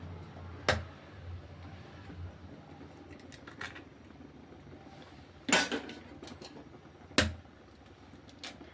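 Eggs are cracked and dropped into a large frying pan, giving three sharp clinks and taps spaced apart over a quiet kitchen background, with a few faint clatters between.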